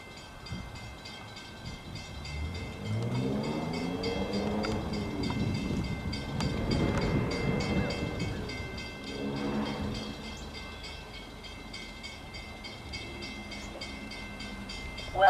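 A train moves at a Hartford Line station with a rising and falling low rumble and rolling wheel noise that peaks in the middle and eases off, and a high steady tone sits above it. No one speaks.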